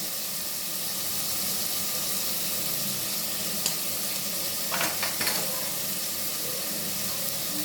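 Chopped tomato sautés in a pan while preparing wheat rava kichdi, giving a soft, steady sizzle with a few brief clinks of stirring near the end.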